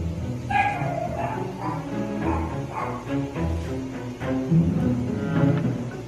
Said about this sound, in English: Never judge the effectiveness of a guard dog by their size.